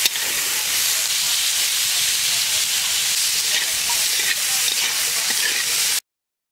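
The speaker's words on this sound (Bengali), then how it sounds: "একদিকে আমি সবজিগুলো ভাজছি আর একদিকে ডাল তুলে দিচ্ছি।" Carrots and other vegetables fry in a pan with a loud, continuous hiss and sizzle, and faint scraping from stirring comes through before the sound cuts off abruptly near the end.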